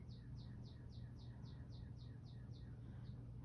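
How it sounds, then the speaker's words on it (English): Small birds chirp in a steady, evenly spaced series of bright repeated notes, faint and distant over a low constant background hum, with no talking. "Those are the pretty birds in the background that you all might be hearing."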